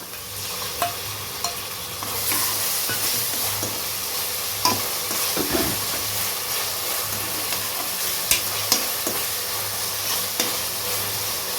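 Ginger garlic paste sizzles steadily in a hot pan for a mutton and potato kurma, with a constant frying hiss and occasional scraping clicks from stirring, close and moderately loud.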